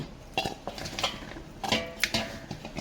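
Metal bowls clank and clatter a few times in quick succession, close by, as a bowl is put into a tin container, with bright tinny knocks between short pauses.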